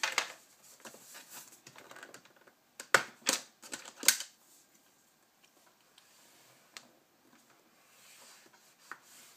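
A sheet of 8.5 by 11 inch paper cut to 4 1/4 inches is scored at 5.5 inches on a scoreboard, giving a series of close, crisp scraping and tapping strokes, clustered in bursts and then thinning to a few soft ticks.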